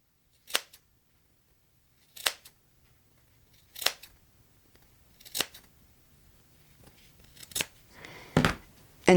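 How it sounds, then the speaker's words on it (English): Scissors cutting paper fringe for a Christmas hat topper, six sharp separate snips spaced over quiet gaps, close and crisp, the last cuts coming a little faster. "I'm going to cut these right here"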